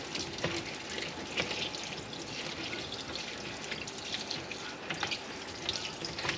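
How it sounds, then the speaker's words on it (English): Water runs from a tap while carrots are washed beneath it, a steady hissing splash with small knocks and drips, close and alone. "Now what we're going to do is wash, peel, and cut our carrots."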